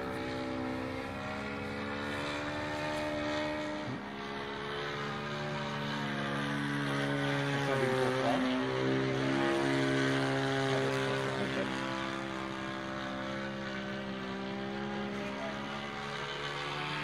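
A yellow WACO propeller plane on its maiden flight drones steadily with rising and falling harmonic tones, growing slightly louder midway as it passes, no talking.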